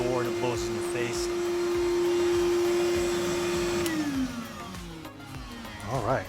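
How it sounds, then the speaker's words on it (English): A Skat blast cabinet's dust vacuum runs with a steady loud whine and hum that holds even, then winds down near the end, with a voice briefly heard over it. "I let the vacuum run for about a minute."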